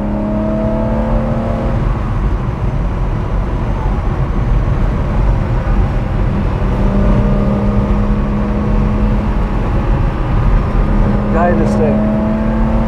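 A 1980 BMW M1 sports car engine drones steadily while driving, a continuous close mechanical hum with shifting tones and rising pitch near the end, with people talking over it.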